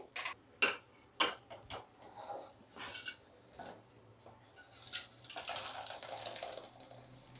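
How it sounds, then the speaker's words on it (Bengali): Freshly made chhana cheese for chhena poda is strained, giving irregular close splashes, drips and clinks of a vessel, with a longer run of pouring water toward the end; no one speaks. "ছানাটা হয়ে গেছে, এবার আমি ছেঁকে নিচ্ছি।"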